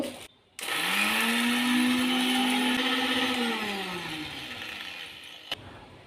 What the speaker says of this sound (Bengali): তার জন্য মিক্সি বাটিতে আমি সর্ষে দিয়ে দেব